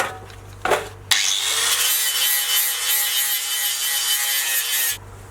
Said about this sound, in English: I'm going to take the edges off with the flat disc on the grinder.